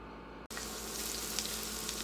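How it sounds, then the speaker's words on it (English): Steady, dense sizzling of chicken pieces frying in hot oil, close and continuous, with a brief drop-out near the start and no voices. "we are frying our chicken pieces"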